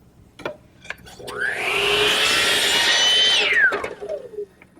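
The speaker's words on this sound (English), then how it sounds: "I've turned my saw to 45 degrees to cut the bevel on the end." A power saw tilted to 45 degrees cutting a bevel on the end of a wooden cleat for a wine storage unit: the motor spins up, holds a loud whine through the cut, then winds down, with brief knocks around it.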